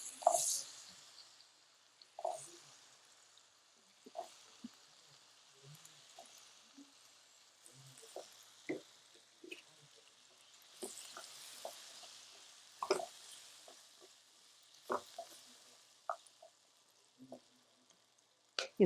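Potatoes frying in oil with chili powder over low heat make a soft, faint sizzle broken by scattered light clicks and stirring taps.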